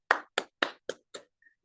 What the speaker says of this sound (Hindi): आज के सेशन के लिए भी एक बार जोरदार तालियां होनी चाहिए